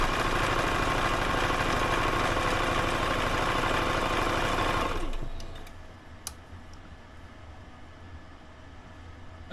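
A sewing machine runs a steady, fast, whirring stitch along a 3/4 inch seam allowance for about five seconds, then stops, leaving quiet room tone with a few faint clicks.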